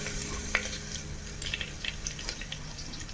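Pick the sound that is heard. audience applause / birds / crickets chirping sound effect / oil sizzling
oil sizzling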